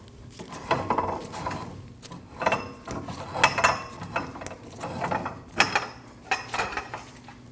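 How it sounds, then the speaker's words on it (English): A car jack is lowered and pulled out from under a 2013-2019 Ford Escape, giving a close series of ratcheting clicks and metallic clunks in uneven bursts, with no talking. "Now remove your jack."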